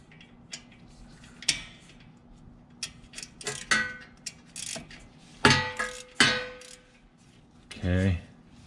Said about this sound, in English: My socket wrench will be up against this, causing a little bit of problems.